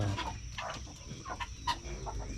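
Chickens and guinea fowl on a homestead cluck and squawk in short bursts, with birdlike calls overlapping against a steady low rumble of background noise.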